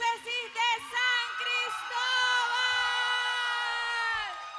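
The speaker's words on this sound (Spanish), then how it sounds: "Un aplauso fuerte para el grupo juvenil de la pastoral de la diócesis de San" A crowd in a church gathering cheers, whoops and shouts in acclaim for a diocesan youth pastoral group, loud sustained voices rising and trailing off, with little clear clapping.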